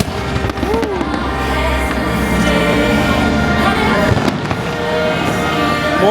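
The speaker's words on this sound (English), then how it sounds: "All right, shoot the cannons." Fireworks show cannons firing at Epcot, Disney World, a dense, continuous barrage of booms and crackling bursts with a crowd murmuring underneath, loud and sustained.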